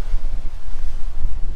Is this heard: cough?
no